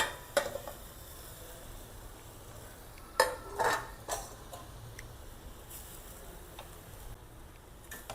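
A spoon stirs grated coconut into sugar in a pan, making a quiet scraping backdrop with a few sharp clinks of utensil on metal scattered through.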